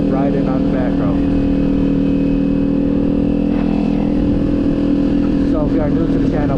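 Kawasaki motorcycle fitted with a Leo Vince exhaust rides along back roads, its engine droning steadily and loud, with someone talking over the ride.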